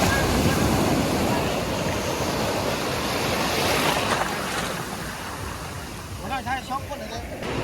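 Sea surf rolls steadily onto a beach in Vietnam in the morning, a broad continuous wash with wind buffeting the microphone and faint voices near the end.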